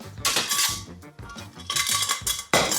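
A metal baking tin clatters and clinks as leftover bread dough for a traditional Ukrainian Christmas karachun loaf is moved into it, with several bursts of metallic knocking and scraping close by, no voices.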